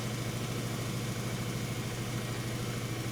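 A Geo Metro engine idles high and steady with a constant low hum and a mechanical drone, close and unbroken throughout.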